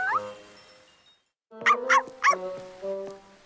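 Cartoon dogs in a dance show give a quick run of three or four sharp, yippy barks and whimpers, close and clear, with bright musical tones sounding alongside them.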